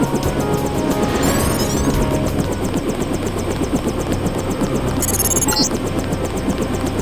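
A helicopter idles near the player in the Deus Ex game set in Paris, a steady, loud rotor drone with a whirring buzz running unbroken throughout, with brief electronic chirps on top.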